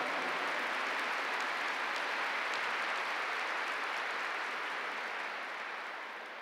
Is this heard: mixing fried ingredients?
no